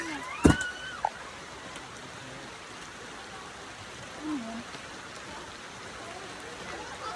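Steady rain falls on a farm, a continuous soft wash of drops hitting surfaces, with a sharp knock early on and a brief voice sound partway through.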